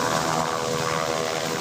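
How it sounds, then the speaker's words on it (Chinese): A Black Hawk helicopter sets down on a grassy park slope during the Han Kuang 41 military exercise in Taiwan. Its rotor produces a loud, continuous thudding roar that fills the whole clip, heard up close. "乌鹰直升机降落伫公园的草坡啊，大普罗佩拉鼓真紧，发出真大声音。"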